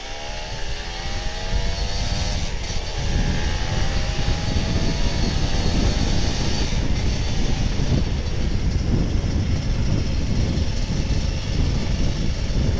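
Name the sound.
loud motorcycle engine and exhaust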